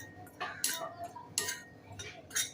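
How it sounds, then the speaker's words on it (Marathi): A spoon stirs jowar flour as it dry-roasts in a pan over low heat. Four or five sharp metallic scrapes and clinks come at irregular intervals, close and distinct against a quiet background. "हे पीठ भाजताना सतत चमच्याने हालवून घ्यायचं आहे"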